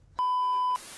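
A construction truck's reverse alarm gives one sustained electronic beep lasting about half a second, loud and clear, followed by a fainter noisy wash of background sound.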